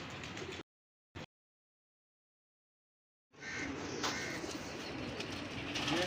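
Pigeons coo close by in two short bursts, then after a silence a steady stretch of soft cooing and flutter-like rustle fills the rest.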